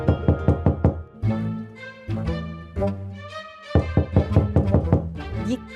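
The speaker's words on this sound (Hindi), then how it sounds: "ये कौन पागलों की तरह दरवाजा बजा रहा है इस टाइम?" A wooden door is struck over and over in quick bursts of loud knocks at night, rapid clusters separated by short pauses, mixed with tonal dramatic background music.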